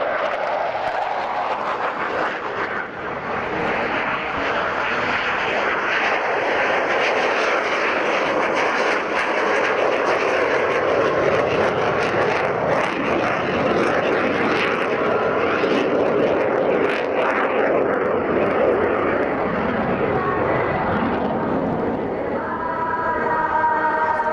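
Military jet aircraft make a close pass at a Navy airshow at Yeovilton, a loud sustained roar swelling and fading over about twenty seconds, with faint crowd noise beneath.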